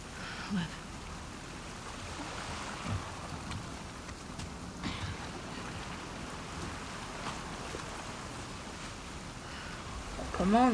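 Steady rain pattering down in a video game scene from The Last of Us Part II, a soft continuous hiss with faint scattered drops, low and even throughout.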